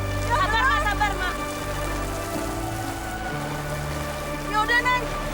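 Rain falls steadily outdoors, a constant hiss of drops on surfaces, while sustained tonal sounds and warbling notes rise over it near the start and again near the end.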